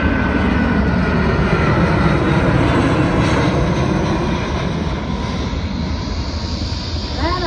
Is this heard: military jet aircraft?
yes